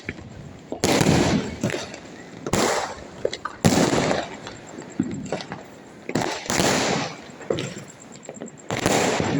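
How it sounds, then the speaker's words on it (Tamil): Diwali fireworks and firecrackers going off in a rapid series of loud bursts and crackling pops, with repeated dense bangs and short gaps between them, heard close and strong without any talking. "அவ்வளோதான் வெடி போச்சு."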